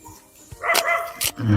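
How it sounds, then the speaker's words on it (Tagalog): A dog barks a few sharp, close barks between short gaps, ending with a lower growly yelp, outdoors in a rural vegetable garden. "Wala sa ayos yung aso na to."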